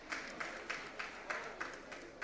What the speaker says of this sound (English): Please, a round of applause for Fatima Umar.